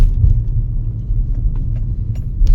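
A car on a night drive up Morni Hill rolls over a rough, bumpy road, a loud, continuous low rumble of engine and tyres with small knocks and thumps heard from inside the car.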